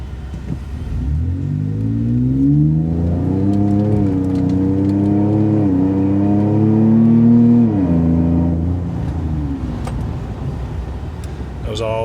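A Ford Tremor pickup with 3.31 gears and a locking differential accelerates gently on a side road, its engine note rising through several gear changes, close and fairly loud, with a drop in revs near the end.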